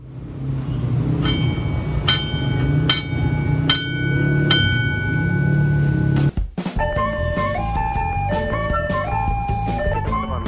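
A passenger train, the Kuto Jaya Utara, rumbles past over steady clacking at a level crossing in Taman Kota, Jakarta, while the crossing bell rings in regular strokes, then a melodic chime signal plays after the train is gone.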